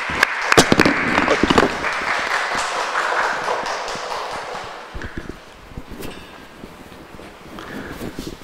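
A church congregation applauding during a Sunday service: a burst of loud clapping that swells, then thins into scattered, fading claps over several seconds.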